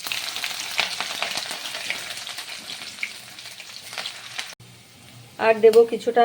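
Whole dried red chillies, bay leaf, panch phoron and cumin seeds spluttering in hot oil, a steady close sizzle with crackles, then a louder burst of frying near the end as more goes in; someone speaks briefly over it.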